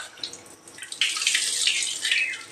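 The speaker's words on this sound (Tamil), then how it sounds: "இந்த டேப் உங்களுக்கு சௌரியமாக இருக்கா? தண்ணி வர்றது மாற்றணும்." Water runs steadily from a kitchen tap, a close hissing splash that swells after a few soft drips at the start and continues without talk.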